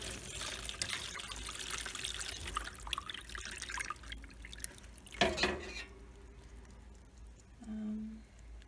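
Water poured from a bowl into small succulent pots, a soft trickling and dribbling under faint room noise, with a brief louder splash partway through before it tapers off.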